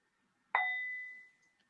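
A single metallic strike on a gong rings out clearly in a quiet room, a bright sustained tone that decays smoothly over about a second.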